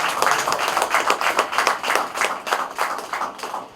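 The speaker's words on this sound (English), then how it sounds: "give him a round of applause" An audience claps in honour of a decorated customs officer, the hand claps loud and close, falling into a steady, evenly spaced rhythm for several seconds with no talking over them.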